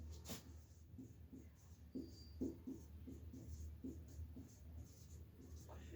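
A pen or chalk writes a name by hand, giving faint, rhythmic scratchy strokes with low room noise underneath.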